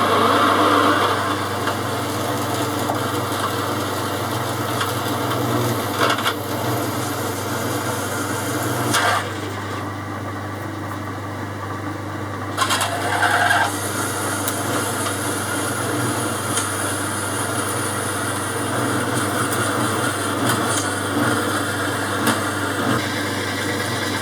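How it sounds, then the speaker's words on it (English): A 7/16 drill boring into steel stock for a new draw bar bush, a steady motor hum and whine with cutting chatter that briefly drops away mid-clip and then resumes, no talk. "This is a 7/16 drill."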